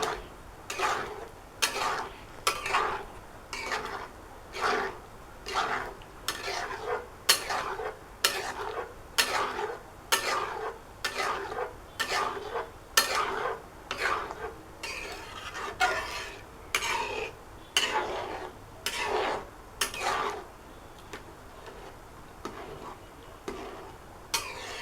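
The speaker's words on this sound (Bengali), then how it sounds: "এখন এইভাবে একটু কিছুক্ষণ একটু কষিয়ে নেব।" Hilsa fish head and bottle gourd curry is stirred in a pan with a utensil, producing regular rhythmic scraping strokes about once a second over a low background, no talking.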